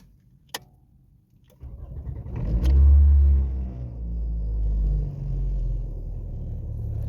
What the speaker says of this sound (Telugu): మళ్ళీ కార్ అయితే స్టార్ట్ చేస్తున్నాం చూడండి